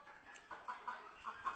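Kadaknath chickens raised on a farm in Bastar, Chhattisgarh, give a few soft, faint clucks in quick succession.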